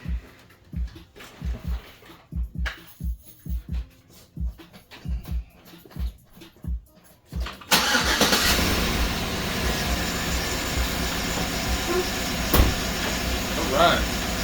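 A 2007–2015 Chevy Tahoe with a 5.3L V8 runs after a tune-up with new spark plugs and wires. Rhythmic talking comes first, then the engine abruptly starts and settles into a loud, steady idle.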